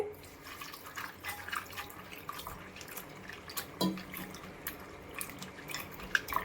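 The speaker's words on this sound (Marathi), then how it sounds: "चला तर मग पाणी ऍड करून मी बोंबील धुवून घेते" Soft splashing and dripping of water in a bowl as dried Bombay duck fish is washed, quiet and close, with intermittent small sloshes and trickles.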